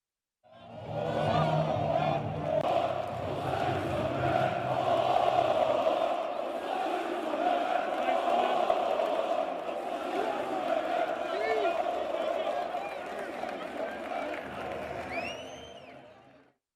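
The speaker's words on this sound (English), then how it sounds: "the fans assembled at the stadium following the end of the team's extraordinary general meeting to cheer the defender on" Stadium crowd of football fans cheering for a defender, a sustained roar of many voices with shouts rising and falling, heard at a distance for about sixteen seconds.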